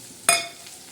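Onion drops into a pan of dried shrimp and garlic, setting off a sudden loud burst of sizzle that fades back to a quieter, steady fry within a moment.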